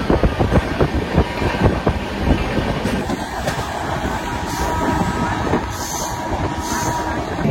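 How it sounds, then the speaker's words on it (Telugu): Tirumala Express train rolling into Dwarapudi station, a loud continuous rumble with rapid clickety-clack of wheels over rail joints, easing into steadier running noise without talk. "ఇప్పుడైతే మనం ద్వారపూడి స్టేషన్ లోకి అయితే ఎంటర్ అవుతున్నాం."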